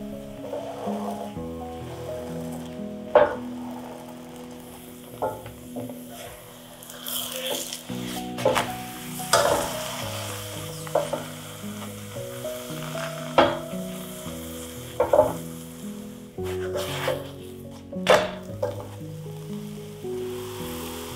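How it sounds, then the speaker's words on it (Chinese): Egg crepe dough sizzles steadily in a hot pan for Taiwanese dan bing, a soft continuous frying hiss under gentle background music. "一张饼皮呢，约煎5到6分钟就会熟了。"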